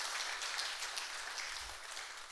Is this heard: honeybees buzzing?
no